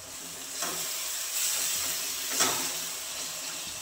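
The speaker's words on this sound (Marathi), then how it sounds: "आता हे कमी गॅसवरती परतून घ्यायचे, टोमॅटोचा आंबटपणा जाईपर्यंत" Tomato masala for a dhaba-style egg curry sautéing in a pan over low gas, a soft steady sizzle and hiss with a couple of brief louder spurts as it is stirred.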